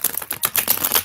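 Rapid papery riffling of a deck of cards being shuffled close by, a dense run of quick crisp flutters in bursts, loud and alone without talk.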